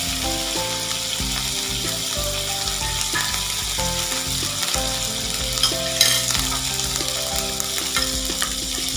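Ginger and garlic paste fries in a pan while being stirred, a strong constant sizzle with scraping stir strokes, close up, and music running underneath.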